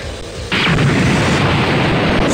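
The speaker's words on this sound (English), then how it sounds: "Suddenly, an explosion rang out from the heart of the city." A deep explosion booms out in a city in the Dragon Ball Z Budokai Tenkaichi 2 video game, a sudden loud blast that rolls into a sustained rumbling roar.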